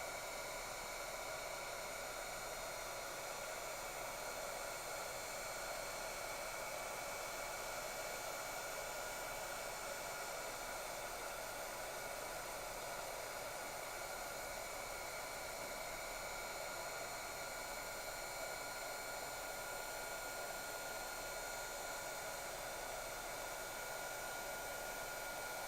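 A heat tool blows hot air onto a craft mat, a loud, steady, unbroken hiss and whir that runs for the whole stretch with no voices.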